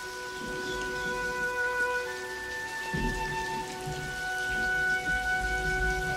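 Steady rain falls on a surface, a constant close pattering under sustained tonal hum, with no voices.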